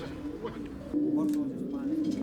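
Racing pigeons coo in low, rolling tones close by, with a person talking over them.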